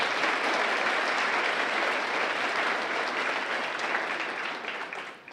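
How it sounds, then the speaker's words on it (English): Steady, full applause from a large audience honoring students and society members at a Founders' Day gathering, a continuous wash of clapping that holds level before tapering off at the end. "Please give our students and Kellogg Society members a big round of applause"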